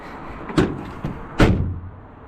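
A 2025 RAM 3500 Big Horn tailgate with no soft close drops and slams shut with two sharp, loud bangs about a second apart, the second heavier, followed by a short low rumble.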